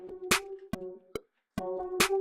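Pitch-shifted pickup note leading into the final chord of a K-pop track produced in Pro Tools, short tonal hits with sharp percussive transients, a brief silent gap, then the chord returning.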